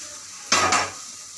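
Softened tomatoes tipped from one vessel into a pan, a single short burst of clattering and sizzling lasting about half a second, close and loud against a quiet background.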